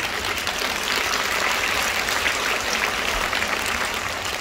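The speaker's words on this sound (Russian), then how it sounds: "Сейчас поддержите меня аплодисментами" Audience applause fills a hall at a Faberlic forum in Moscow: dense, steady clapping from a large crowd, loud and continuous throughout with no voices over it.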